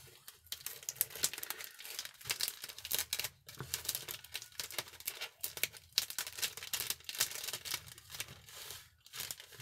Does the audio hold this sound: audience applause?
no